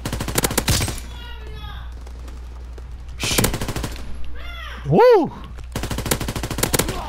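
Bursts of automatic gunfire crackle in a WW2 video game, several loud volleys separated by brief lulls, with a player's voice exclaiming between them.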